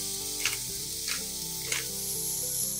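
Onion fries in oil in a pan with a steady, close sizzle, while three brief scraping swishes of stirring rise above it at regular intervals.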